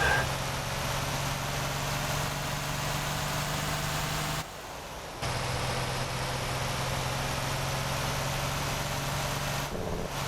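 The Titan truck engine in the video game Motor Town: Behind The Wheel runs with a steady low droning hum and a constant tonal rumble, cutting out briefly twice before resuming.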